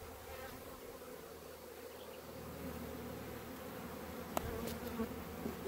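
Honeybees drone in a dense, steady buzz from an open hive during an inspection, close and continuous, with a couple of brief sharper clicks near the end.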